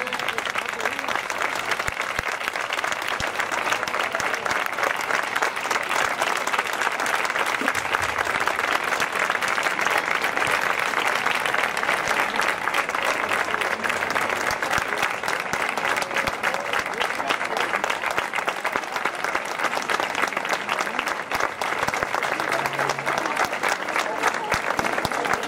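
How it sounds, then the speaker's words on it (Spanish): A crowd applauds at a public reception in Medina Sidonia, Spain, honouring local figures, with loud, dense, sustained clapping that holds steady for the whole stretch and a few voices mixed underneath. "José Antonio, Manuel Fernando, un fuerte aplauso para ellos."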